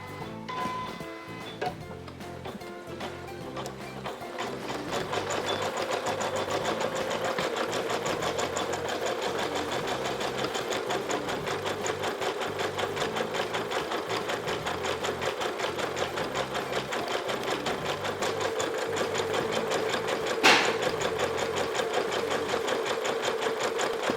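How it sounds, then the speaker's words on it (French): A Janome Memory Craft 1000 embroidery machine stitching the letters of a name, giving a steady, rapid mechanical chatter that runs on evenly and close up, alone without any voices. "Voilà pour le H et la machine passe à la lettre suivante en coupant automatiquement le fil."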